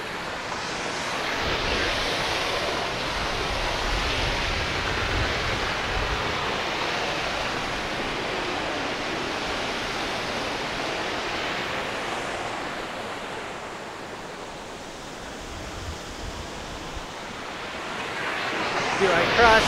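A waterfall on the Annapurna Circuit in Nepal, heard as a loud, continuous roar of rushing water that stays steady throughout with a slight swell near the end, with no talk over it.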